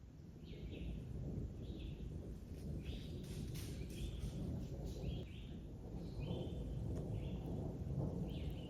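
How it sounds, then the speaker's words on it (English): Small birds chirp in short, repeated bursts over a steady outdoor rumble near Barber Creek, Michigan, fairly faint and scattered across the whole stretch. "Just listening to all the birds chirping away"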